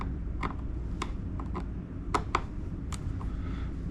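End cap screws come out of a Neuton CE5 mower with a T15 bit, heard as faint, scattered ticks and small metallic clicks over a quiet room hum.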